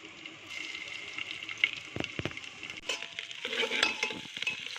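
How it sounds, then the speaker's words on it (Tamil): Ground masala frying in two tablespoons of ghee with a bay leaf in a pan, a steady close sizzle with a few stirring scrapes and clinks, no talking. "இது நல்லா 2 நிமிஷத்துக்கு நம்ம நல்லா வறுக்கணும்."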